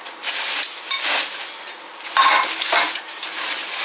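Non-stick pots and pans clatter and clink as they are handled, a series of light metallic knocks and scrapes close by, with no talking.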